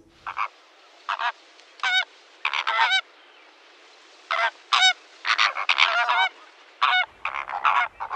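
Greater flamingos call in loud, nasal, goose-like honks, with repeated short bursts and clusters separated by brief pauses, clear and close with no voices.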